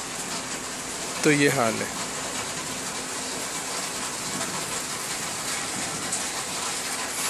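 Rain falls on flooding streets in Jeddah as a steady, broad hiss. Someone speaks briefly near the start.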